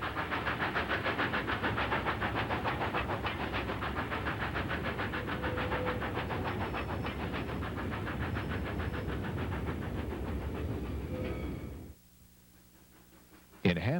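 ET&WNC No. 11, a 1949 narrow gauge steam locomotive, running at Valley Forge Trestle, giving a steady chuffing and rumbling roar with rhythmic clatter and a narration voice over it, then a sudden drop to near quiet near the end.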